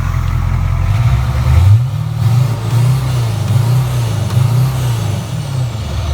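A turbo diesel engine in a 1972 Chevrolet Nova revs up and holds a steady, loud, deep drone with slight wavering in pitch, close and continuous.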